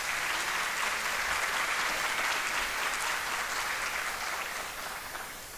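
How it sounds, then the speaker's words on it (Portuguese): Steady applause from an audience, sustained and fairly loud throughout, tapering slightly at the end. "Uma salva de palmas."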